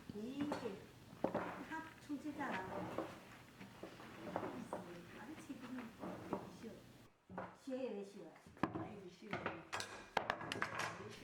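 Stirring popcorn coated in hot malt sugar in a kitchen, with scraping and clinking of utensils against the pan repeated throughout at close range, with a voice talking over much of it.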